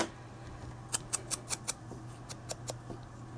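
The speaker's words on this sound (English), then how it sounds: "and I cut that in half" Scissors snip through paper or cardstock while making a Santa gift box, a rapid run of five crisp, close cuts followed by a few softer snips, with no talk.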